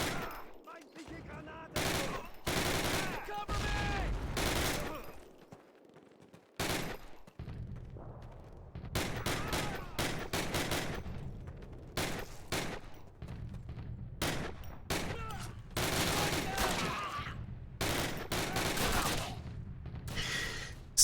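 Rapid gunfire fills a strategy video game battle on veteran difficulty, with dense bursts of machine-gun fire and volleys of shots in repeated clusters separated by brief gaps. Someone occasionally talks over the shooting.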